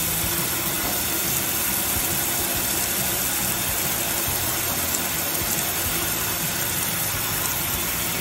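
A BatherBox bathing system runs steadily with no electricity or water pressure, pumping product through its tubes and internal lines; a constant, loud mechanical hum and whir fills the whole stretch with no talking.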